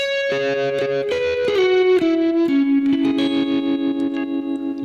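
An electric guitar with gold foil pickups plays a descending run of clear, sustained notes, then settles into a repeated strummed note with a bright, open tone.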